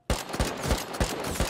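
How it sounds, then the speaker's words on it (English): AK rifle fire in the survival game Rust: several sharp, loud shots in fairly regular bursts, with a steady background din between them and no talk. "Is that an AK?"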